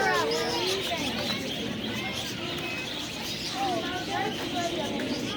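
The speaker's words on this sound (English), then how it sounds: "That's a lot of birds" A dense chorus of many birds calls and chirps from trees, overlapping chirps and coos filling the whole stretch, with a faint murmur of voices underneath.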